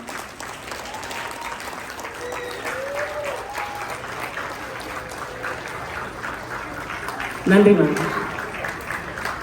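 Audience applause fills a Tamil school graduation ceremony hall, a steady broad wash of many hands clapping throughout, swelling louder near the end, with a brief voice speaking over it.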